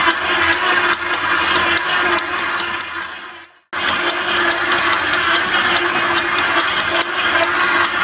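Dough mixer kneading onion tomato bread dough, a steady loud motor whir with rhythmic thumping, briefly dipping to silence before resuming at full strength, close and continuous.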